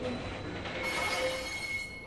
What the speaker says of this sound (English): the train was off